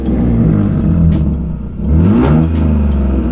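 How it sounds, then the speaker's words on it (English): A Lexus IS300 engine with a large exhaust leak from aftermarket racing headers revs twice, rising and falling, loud and close, with a ticking, leaky rasp to the exhaust note. "I do have a fat exhaust leak right now from the eBay racing headers, and it does sound like it's leaking"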